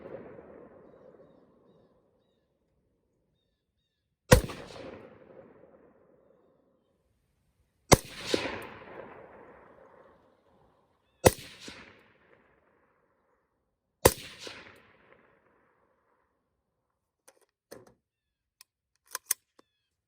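A magnum rifle fires several sharp shots, the earlier ones unsuppressed and later ones through an OSS HX-QD suppressor, each a loud crack with a decaying tail, spaced seconds apart outdoors, followed by fainter distant pops.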